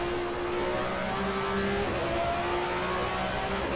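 A 1994 German Touring Car Cup race car at Zandvoort in GTR2 drones loudly at close range, its steady engine note stepping abruptly in pitch partway through as it drops two gears.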